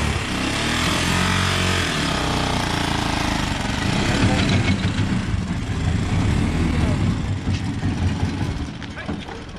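An old, battered motorcycle engine runs loudly with a rough, rattling, hammering idle that holds steady throughout, while voices talk over it.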